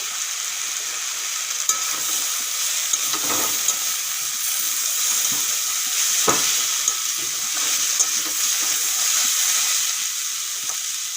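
Ridge gourd (kushi) peel frying in a pan, a steady close sizzle running throughout with occasional stirring scrapes and clicks.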